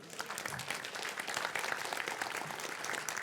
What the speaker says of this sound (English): So big applause for Piotr.